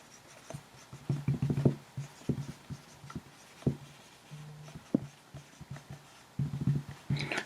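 Marker or chalk writing on a classroom board, short quiet scratchy strokes in irregular bursts, close and faint, with no talk.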